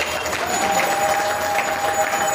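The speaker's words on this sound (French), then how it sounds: "Vous pouvez applaudir Maître Miteo" Crowd at a political party congress opening in Kikwit applauding a guest, dense steady clapping with some crowd noise, brief and moderately loud.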